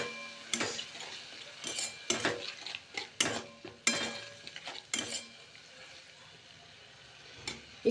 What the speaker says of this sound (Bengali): গুলে নেওয়া সসগুলো সব দিয়ে দিলাম